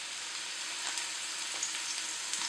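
Roughly chopped ingredients sizzle in olive oil at the bottom of a pot, a steady bright hiss with small crackling pops, close and continuous, with no talking.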